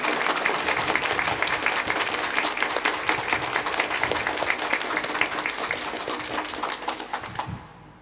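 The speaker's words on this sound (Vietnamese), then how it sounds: "Mời cộng đoàn vỗ một tràng pháo tay thật to và thật dài chào đón Hội đồng Giám mục Việt Nam và tất cả các vị khách quý." A congregation claps long and loudly at a Catholic Mass in Vietnam, welcoming bishops and guests at the blessing of a diocesan pastoral centre; dense, steady applause fills the space for about seven seconds, then fades out.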